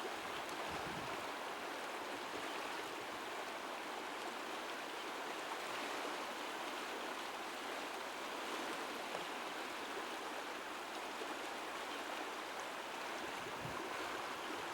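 A river with strong undercurrents flows on without a break, a soft, broad hiss of moving water, constant and fairly faint, with no voices over it.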